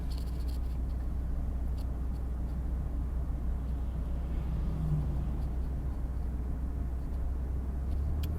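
A 2001 Mitsubishi Magna Si (TJ) car driving and accelerating, heard as a steady low, muffled engine and road drone from inside the cabin, fairly quiet and unbroken, with no talking.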